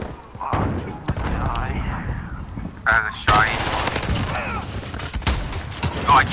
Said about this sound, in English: this guy has a shotgun